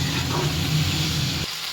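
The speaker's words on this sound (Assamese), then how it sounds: "এনেকুৱা ৰঙা কৰি ভাজি লৈছোঁ" Malabar spinach frying in a hot pan, a steady loud sizzle and hiss with stirring that cuts off abruptly near the end, no talk.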